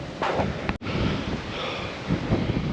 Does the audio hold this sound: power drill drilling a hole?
no